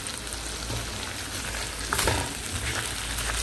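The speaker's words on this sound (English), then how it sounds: "so I'm gonna let this fry for another 2 minutes" Fish curry with carrot fries in hot oil, a loud, close, steady sizzle with a brief stir or scrape midway and no talk.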